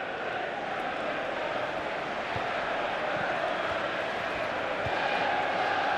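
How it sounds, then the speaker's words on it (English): Steady roar of a stadium crowd cheering throughout a FIFA 15 Premier League video game match between Tottenham and Swansea, a continuous dense wash of noise. "the crowd really enjoying it"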